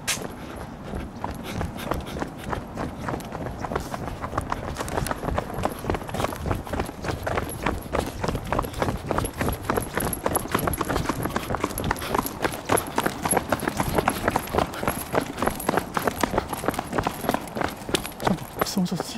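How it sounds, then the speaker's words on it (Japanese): Footsteps crunch along at a steady walking pace through an abandoned, off-limits theme park in Japan, close and continuous for the whole stretch, with brief low talk over them. "足音が聞こえるじゃないか"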